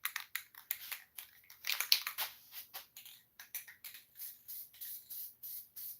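A can of spray paint spraying in a garage, a string of quick hissing bursts, closely spaced and fairly faint, with the puffs growing more even and rhythmic toward the end.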